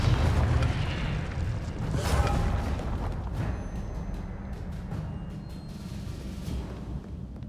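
Fiery Confringo spell blasts in Hogwarts Legacy combat, a heavy booming explosion followed by crackling debris and several sharp smaller hits, with a rumbling roar that gradually decays over several seconds.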